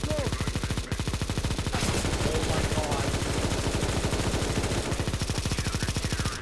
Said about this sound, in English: Suppressing fire, boys!